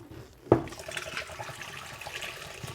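Water from a container of freshly frozen clear ice gushes out with a sudden splash, then keeps running and trickling steadily for a couple of seconds, fairly faint and with no talking.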